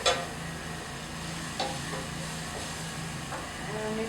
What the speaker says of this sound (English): So we'll just put the whole seed and keep stirring